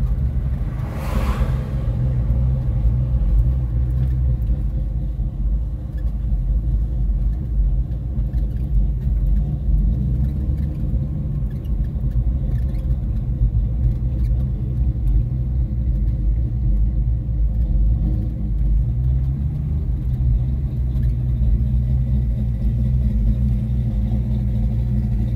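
Mopar muscle cars rumble through a cruise, a deep steady low-end engine drone running the whole time with a brief passing whoosh near the start.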